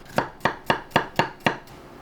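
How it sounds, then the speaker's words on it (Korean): A knife slices cherries thinly on a cutting board, six quick even taps in a steady rhythm, close and fairly quiet. "잘게 썰어주면 되는데 크기는 제한이 없어요. 저는 3등분 해가지고 얇게 썰어볼게요"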